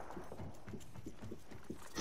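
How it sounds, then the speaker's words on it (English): Footsteps tread through a combat video game in a steady, quiet series of soft, regular thuds, with a brighter burst of noise coming in at the very end. "I keep hearing footsteps."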